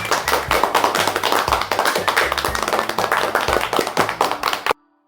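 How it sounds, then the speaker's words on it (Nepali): An audience claps in an animated children's story to welcome a student prize-winner onstage, a dense run of sharp, rhythmic hand claps close and loud, cutting off abruptly near the end. "उहाँलाई जोरदार तालीले यो मञ्चमा स्वागत गरौँ"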